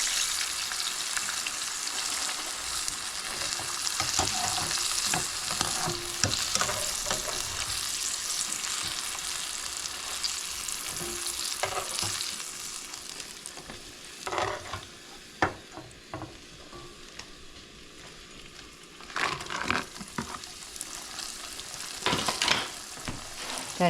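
Sesame chicken pieces fry and sizzle steadily in a hot pan, with bursts of scraping and clattering as they are stirred, loud and close throughout with no talking.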